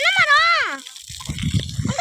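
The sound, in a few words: water being released and flowing on a farm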